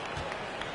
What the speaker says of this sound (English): You can see the coaching staff rise up and clap for that effort.